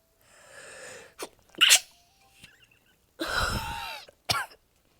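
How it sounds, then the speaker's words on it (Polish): A single sharp sneeze bursts out close by after a soft intake of breath, followed by throat-clearing and a second brief exhalation, heard alone without talk. "ale mi się kichło"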